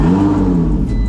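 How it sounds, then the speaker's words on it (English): An Audi R8 engine fires up and holds a loud, close, steady low rumble with a rising tonal whine for about a second. "let's start the car up"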